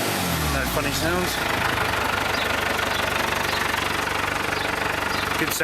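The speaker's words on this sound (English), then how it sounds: "Good sounding engine." An Isuzu 2.8 turbo diesel engine idles with a steady, rapid diesel clatter and a close, continuous rhythmic knock, after a brief rising rev-like sweep at the start.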